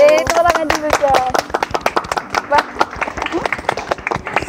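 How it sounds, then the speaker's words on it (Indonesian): A small group claps their hands during a Mother's Day podcast episode, with sharp, distinct claps close to the microphone in a quick irregular patter. Voices are heard briefly at the start. "Tepuk tangan dulu"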